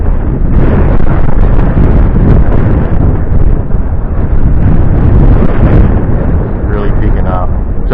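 Strong wind hits a drone's microphone as one loud, continuous roar. It rumbles and buffets the whole time and drowns out any other sound.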